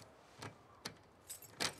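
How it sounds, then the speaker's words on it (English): Keys jangle in The Last of Us Part II, several short, faint metallic jingles in quick, uneven bursts with no talk over them. "Did you steal my keys?"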